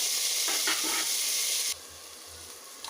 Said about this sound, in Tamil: தக்காளி பழத்தையும் ஆட் பண்ணி நல்லா முடிஞ்ச அளவுக்கு எந்த அளவுக்கு முடியுமோ அந்த அளவுக்கு நம்ம வதக்கி எடுத்துக்கலாம்